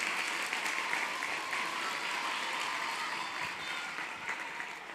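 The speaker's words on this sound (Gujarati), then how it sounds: "વધાવી લો એકવાર જોરદાર તાળીઓના ગડગડાટથી" Audience at a stage show by a child comedian breaks into loud, sustained applause, many hands clapping together, slowly fading near the end.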